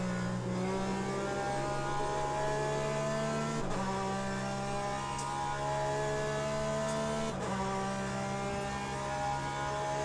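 A race car engine in Le Mans Ultimate revs steadily at high pitch, with two clear gear shifts breaking the drone before it climbs again, loud and close with no voices.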